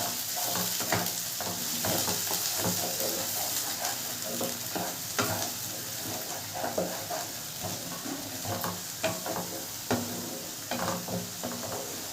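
Spinach and green chillies being stirred in a frying pan for Bengali palong vorta, a steady sizzle punctuated by repeated scraping and tapping of the spoon against the pan, close and continuous.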